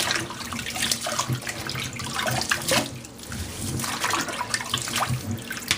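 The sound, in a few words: water running in sink, rinsing box fan grille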